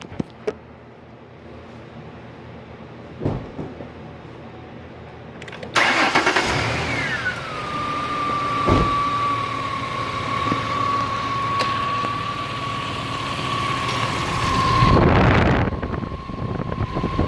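A car with a newly repaired radiator leak cranks briefly, catches and settles into a steady idle with a whining tone, heard close up over light wind noise on the microphone.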